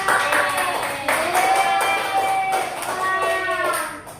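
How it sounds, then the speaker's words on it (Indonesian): Classroom of students clapping hands at the end of a geography lesson, a lively patter of clapping heard alongside musical tones and a few voices. "Tepuk tangan dong buat Amanda"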